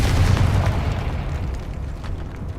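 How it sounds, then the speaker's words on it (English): A Confringo blasting spell explodes in Hogwarts Legacy with a single loud, deep boom that rolls and slowly fades over a few seconds. "Confringo!"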